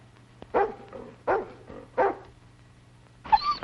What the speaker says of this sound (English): Keep a tight grip on that dog.